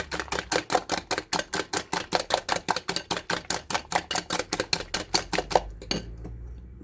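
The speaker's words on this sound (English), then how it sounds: "Then I will whisk." A whisk beats apple cake batter with corn oil in a bowl, making rapid, evenly spaced clicking strokes close to the microphone for about six seconds before stopping abruptly.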